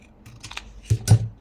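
Scissors snip through paper scraps for a junk journal, two or three crisp close cuts with light rustling between them, no talking.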